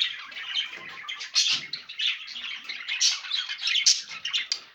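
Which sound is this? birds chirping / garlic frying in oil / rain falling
birds chirping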